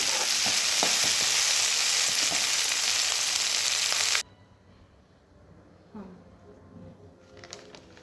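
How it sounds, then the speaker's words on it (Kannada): Loud, dense sizzling of cinnamon and cloves frying in hot oil for about four seconds, then it cuts off abruptly, leaving quiet clinks and faint kitchen noise. "ಚಕ್ಕೆ ಮತ್ತು ಲವಂಗ ಹಾಕ್ಕೊಂಡು ಚೆನ್ನಾಗಿ ಫ್ರೈ ಮಾಡಿ. ಈ ರೀತಿ ಎಣ್ಣೆ ಸ್ವಲ್ಪ ಚೆನ್ನಾಗಿ ಫ್ರೈ ಆಗಬೇಕು"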